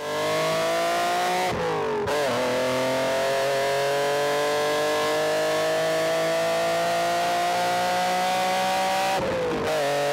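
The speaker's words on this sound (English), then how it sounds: "Mike was able to achieve is the best sounding version of an S54" A loud BMW S54 engine in an E46 M3 revs with a raspy, metallic tone, holding high revs and briefly dipping twice as it's blipped, close and unbroken.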